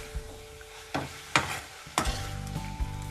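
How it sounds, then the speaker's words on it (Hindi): A spoon stirs spiced filling for a healthy tart in a pan, with several distinct scraping strokes over a faint sizzle, close and fairly quiet with no talk. "मसाले को अच्छे से इसमें मिक्स कर देंगे"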